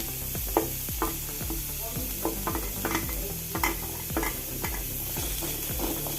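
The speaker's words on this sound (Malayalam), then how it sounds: "ഗ്യാസ് കുറച്ച് വെച്ച് സവോള ഇട്ടൊന്ന് ഇളക്കി കൊടുത്ത് അതിന് തേങ്ങ ഇട്ട് കൊടുക്കുക" Sliced onion and grated coconut fry in a pan over low gas, a constant sizzle with regular scraping and clinking stirs from a spoon.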